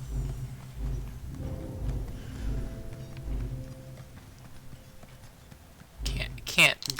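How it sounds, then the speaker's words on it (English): Horse hooves clip-clop in a video game as the horse walks in circles, a steady rhythm of soft thuds over ambient game sound, followed near the end by a few louder sharp effects. "Nice to see you, horse, going in circles like usual"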